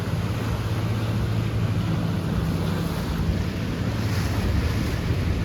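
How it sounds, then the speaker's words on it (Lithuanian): Wind and waves rush in a constant loud roar on the open sea between Liepāja and Klaipėda, heard from a vessel heading home as speedboats come back in, with no single engine standing out. "Grįžta iš jūros greituoliai."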